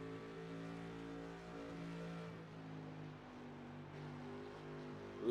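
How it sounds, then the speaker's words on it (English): The V8 engine of a GT3 race car in iRacing at Spa drones in a deep, steady note, then dips as the car slows slightly before building again, sustained and fairly close with no speech. "that creamy, grunty V8"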